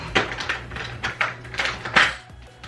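A giant drawer packed with nail products and glitters is pulled open, giving several clattering, rattling bursts of contents shifting and knocking together, close and fairly loud, with no talking.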